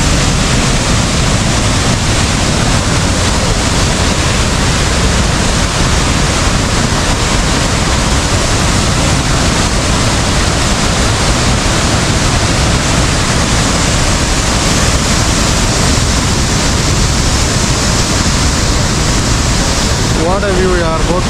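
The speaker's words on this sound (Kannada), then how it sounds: "ಹಿಂದ್ಗಡೆನೇ ಡ್ಯಾಮ್ ಕ್ರಸ್ಟ್ ಗೇಟ್ಸ್ ಓಪನ್ ಮಾಡಿದ್ದಾರೆ" Water rushes through the opened crest gates of the Nirar dam, a loud continuous roar of churning flow close by that holds steady throughout.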